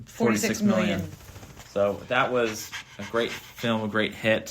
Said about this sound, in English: If you hear some panting in the background